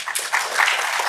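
An audience at a welcome event applauds Mr. Thiaga Rajan with a brief burst of dense, steady clapping that fills the room at moderate loudness, with no voices over it.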